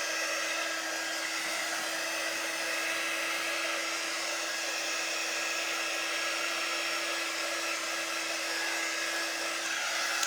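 A hair dryer blows steadily on a freshly made sign, a loud, even motor whine and rushing air held without pause from start to finish with no talking.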